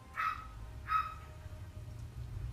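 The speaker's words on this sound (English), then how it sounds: "Shut up, dog." Two short distinct dog barks, about a second apart, moderately close over a low steady background hum.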